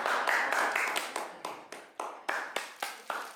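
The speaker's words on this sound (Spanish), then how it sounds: "Un aplauso para vos, Sandra." Scattered studio applause for a departing guest named Sandra, a few sharp clap bursts fading and restarting in uneven waves, moderately close and fairly light, with no talk over it.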